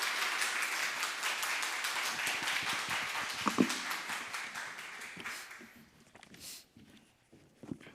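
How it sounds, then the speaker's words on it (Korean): A church congregation applauding to welcome the pastor, dense indoor clapping that gradually thins and fades out, followed by a few scattered claps and quiet room noise. "박수로 모시도록 하겠습니다"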